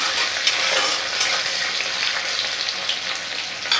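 Panch phoron and whole cumin seeds sizzle and crackle in hot oil while being stirred, a steady bright frying hiss with small scraping accents throughout, close and continuous with no talking.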